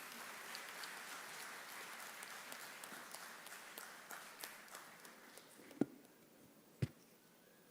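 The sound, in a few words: applause at a convocation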